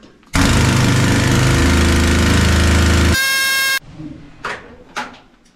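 A pneumatic rock drill demonstrated in the Central Deborah gold mine in Bendigo, Australia, blasts loud and continuous for about three seconds, then stops abruptly, leaving hissing air releases and faint echoes in the tunnel.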